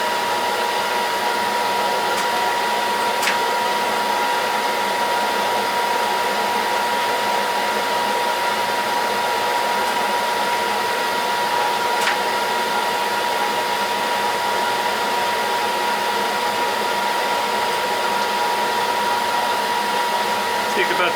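A metal lathe takes a light first scratch pass cutting 32 threads per inch with a threading tool, giving a steady, continuous machine whir and hum with a faint high tone that stays even and close throughout, with no talking.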